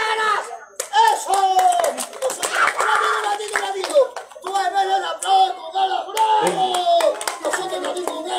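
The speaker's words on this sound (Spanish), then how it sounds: "Regálame los aplausitos, los aplausos, hermano." Applause from an audience at a live comedy show, rapid bursts of clapping that rise and fall throughout while people shout and talk over it.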